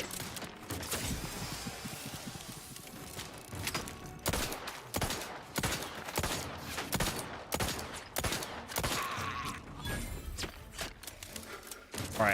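Rapid bursts of hip-fired gunfire in a video game, loud repeated shots in uneven volleys across the whole stretch with game ambience between.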